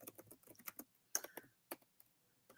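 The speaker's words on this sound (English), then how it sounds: "let me just type that down for a second" Typing on a computer keyboard, a quick burst of close keystrokes followed by a few sparser taps and pauses, with no talking.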